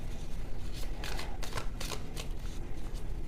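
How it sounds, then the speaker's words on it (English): Tarot cards are shuffled up close in a few quick riffling bursts, crisp and papery, with no voices. "shuffle this again"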